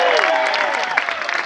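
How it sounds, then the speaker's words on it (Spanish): Audience applause at a breakdance tournament final in Guadalajara, a brief burst of clapping mixed with crowd cheering and whistling, with voices over it. "Por favor, un aplauso para las señoritas."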